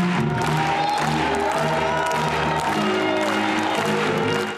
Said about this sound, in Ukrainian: Зал захлинається оваціями, не стихають вигуки «Браво!».